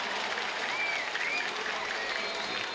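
Large stadium crowd of over ten thousand applauding and cheering at a New Mexico United soccer match, a dense steady roar of clapping with faint whistles, sustained and even throughout.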